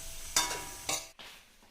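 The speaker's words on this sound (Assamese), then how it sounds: "ভালকৈ মিক্স কৰি লৈছে" Potatoes with turmeric and softened tomatoes are stirred in a frying pan with chicken: two soft scraping strokes with a quiet sizzle underneath, close up and fairly faint, with no voices.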